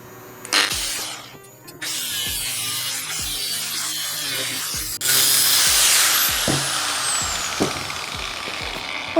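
Small metal pieces are cut for a miniature wire frame model, giving close, rasping bursts of cutting noise broken by brief pauses and light taps and clicks.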